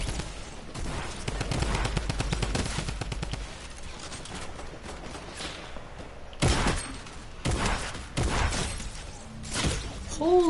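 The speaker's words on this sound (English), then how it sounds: "Holy crap, I didn't even hear that first shot" Video game gunfire: a rapid burst of shots at the start, then scattered loud single cracks later, with some faint background talk and game noise between them.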